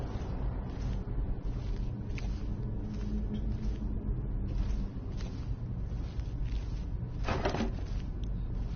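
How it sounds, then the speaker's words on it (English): In the Skyrim dungeon of Ustengrav, a slow creak like an old rusty door opening drags on under a steady hiss of ambient noise, with a brief louder scrape near the end. "Like an old rusty door opening."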